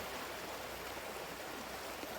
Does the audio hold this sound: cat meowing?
no